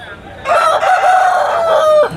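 A native country rooster at a Sunday fowl market in Boddam, Vizianagaram district, lets out one loud, long crow lasting well over a second, close by and dominating the quieter market background.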